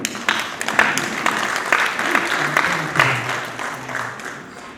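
A gathering at a Rwandan ceremonial event breaks into applause, a moderately loud wash of many hands clapping that holds steady for several seconds, with faint voices mixed in beneath it.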